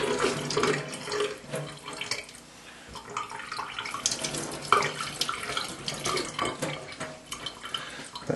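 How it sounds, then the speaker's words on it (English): Tap water runs steadily over a BT4 paintball marker part under a faucet, a continuous close splashing and trickling with shifting spatter as the part is moved in the stream, no talking. "So I run it under a bit of water."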